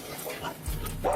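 Several dogs bark and yip in a quick, loose cluster at moderate distance during a police arrest outdoors, with a louder burst near the end and faint background voices.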